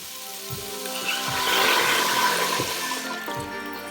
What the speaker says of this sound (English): So now it's the time to put on our vegetable broth.